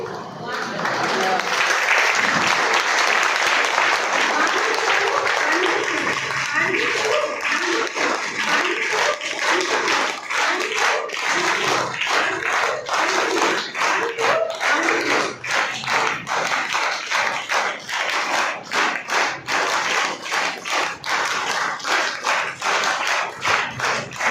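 A hall audience claps together in sharp, evenly timed beats that repeat steadily for about twenty seconds, close and loud over a continuous crowd murmur.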